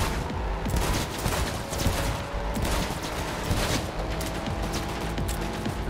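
Ranged weapons fire in Cyberpunk 2077 as dense, continuous gunfire crackles with rapid shots over a loud roaring background during a vehicle chase.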